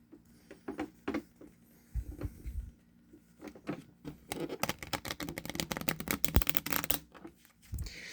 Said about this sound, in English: So we'll give the deck a nice shuffle a couple more times